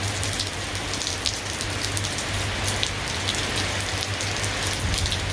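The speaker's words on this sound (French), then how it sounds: "il pleut, donc le sol glisse" Steady rain patters densely on a hiking trail in Krabi, Thailand, a constant close hiss with scattered louder drops and a faint low hum underneath.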